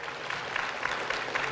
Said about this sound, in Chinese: 让我们共同用掌声送给他